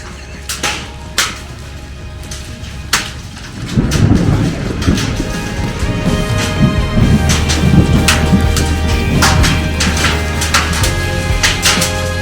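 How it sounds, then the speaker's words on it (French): Dense rattling patter of hail striking metal sheeting, steady and loud after a few sharp knocks, with a low rumble underneath. "C'est la grêle qu'on entend sur les tôles"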